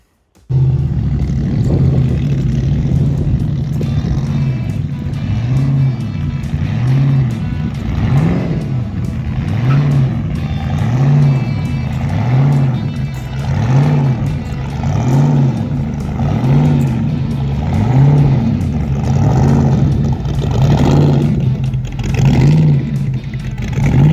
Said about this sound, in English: I think he's bringing his hot rod truck, so he should be pulling in any minute now